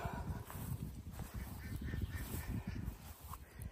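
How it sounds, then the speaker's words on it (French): Ducks quack in a busy, overlapping chatter, calling repeatedly at moderate distance with no talking. "Les canards m'appellent."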